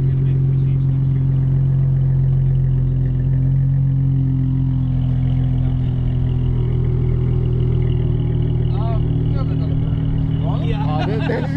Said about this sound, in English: What kind of exhaust is this baby? It's a custom exhaust I did.